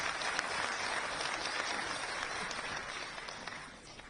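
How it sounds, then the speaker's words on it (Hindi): Loud, sustained audience applause in a large hall at a Supreme Court event with the Law Minister, a dense even roar of many clapping hands that fades slightly toward the end. "बहुत जोरदार ताली बजा के स्वागत है"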